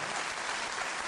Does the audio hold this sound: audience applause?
yes